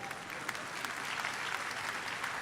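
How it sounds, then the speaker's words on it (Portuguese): An audience in a lecture on emotion management applauds, steady dense clapping from many hands throughout, fairly loud and even, with no voices over it. "Aplaudam vocês, parabéns."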